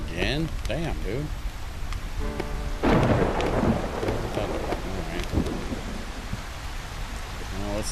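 Rain and thunder in the game Solar Punk: a constant wash of falling rain with a heavy rumbling thunderclap near the middle, while someone talks over it.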